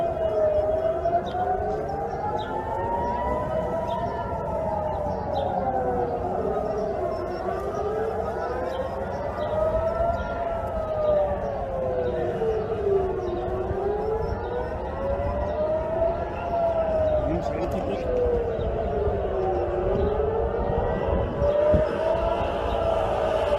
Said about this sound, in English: This was an air raid siren that went off from Jerusalem.